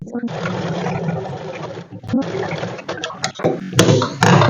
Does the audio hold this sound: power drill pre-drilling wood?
no